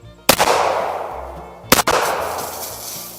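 Two sharp gunshots from a KelTec PMR30 pistol about a second and a half apart, each a loud close crack followed by a long echoing outdoor decay.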